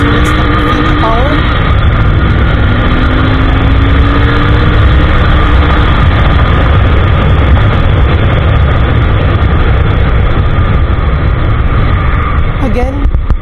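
A 2024 Royal Enfield Interceptor 650 motorcycle, still in its break-in period, gives a loud, steady engine drone while riding and accelerating, with a rising whine near the start and the end.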